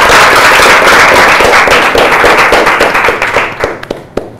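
A studio quiz-show audience claps loudly in dense, close applause that holds steady, then thins out into scattered individual claps before stopping.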